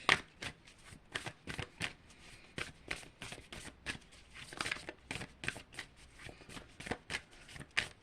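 Tarot cards riffled and shuffled in quick repeated bursts, a steady crisp flutter of paper slapping together, close and clear with no talking.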